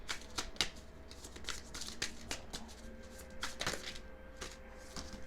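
Tarot cards being shuffled and drawn, a quick series of close, crisp riffling flicks and slaps in an uneven rhythm over a quiet room.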